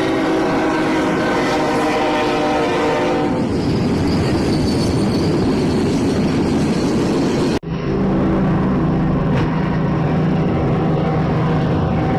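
A train locomotive rolls through a railroad crossing on a city avenue, a loud continuous rumble of engine and wheels with faint squeal, close by and alone.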